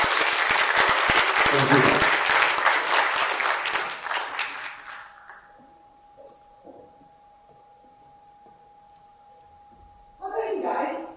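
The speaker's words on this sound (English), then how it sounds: "big round of applause for this amazing panelists." Loud audience applause for conference panelists fills the first five seconds of a conference in Bled, Slovenia, then fades to a quiet hum before a brief spoken thanks near the end.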